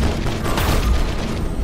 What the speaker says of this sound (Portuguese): Vou dar um tiro especial.